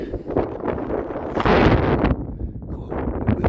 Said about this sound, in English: God, a bit windy.